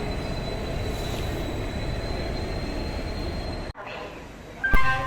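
The 18013 Chakradharpur Express stands at a station platform late at night, with a steady, even rumble of rail and station noise that cuts off abruptly, followed by a brief, sharp metallic tone near the end.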